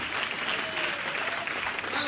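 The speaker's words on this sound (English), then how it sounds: "go ahead and clap this morning here in the house of the Lord" A church congregation claps together during a Sunday morning service, a steady wash of hand claps over a couple of seconds with faint voices mixed in underneath.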